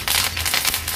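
Curry leaves dropped into hot oil with mustard seeds and cumin, a dense close crackling and spitting burst lasting about a second, no voices.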